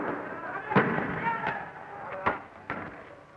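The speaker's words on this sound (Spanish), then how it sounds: "Escuchan disparos de gases lacrimógenos." Police fire tear gas launchers during a street clash between police and students, with several sharp, distant pops spaced irregularly over a murmuring crowd and background commotion.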